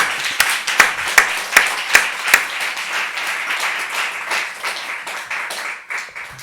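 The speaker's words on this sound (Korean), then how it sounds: "감사의 박수로 영광 돌리십시오" A church congregation applauds during a service, starting with several sharp, evenly spaced claps that give way to dense, continuous clapping.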